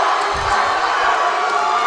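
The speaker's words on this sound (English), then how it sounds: "this Grant Center crowd is going absolutely berserk right now behind their Cougar team" A college basketball crowd at the Grant Center roars and cheers continuously, a dense, loud wall of shouting and whooping from a packed gym with a few thuds beneath it.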